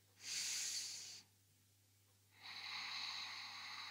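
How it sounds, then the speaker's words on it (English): Two long breaths during a beginner yoga flow in hand-to-big-toe pose, a loud airy hiss lasting about a second, a short quiet pause, then a steady second breath running to the end, close and alone with no talk. "Inhale here."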